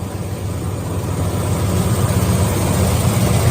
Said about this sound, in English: First off, I got the car running. 351 under the hood.